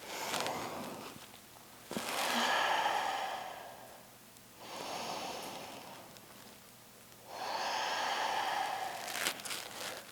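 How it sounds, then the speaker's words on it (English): Strong, deep breathing during a vinyasa yoga flow, three long audible inhale-exhale cycles with a rushing, airy sound, each swelling and fading over several seconds, close and clear without talk. "Nice strong breathing here."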